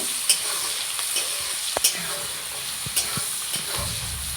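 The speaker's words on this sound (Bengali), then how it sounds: "আগের থেকে কেটে রেখেছিলাম কিছু পেঁয়াজ কুচি দিয়ে দিচ্ছি। এটাকে ভালোভাবে লাল লাল করে ভেজে নেব।" Chopped onions fry in a pan, a steady close sizzle with occasional scraping stirs and light clinks of a utensil against the pan, with no talking.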